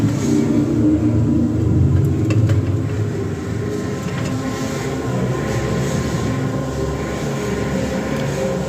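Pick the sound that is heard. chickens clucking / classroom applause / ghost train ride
ghost train ride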